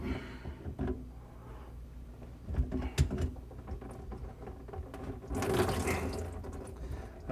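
Water trickles and splashes from a disconnected sink drain line into a catch tray beneath a laminate countertop, with a few clunks of the pipe and nut, then a burst of louder pouring near the end.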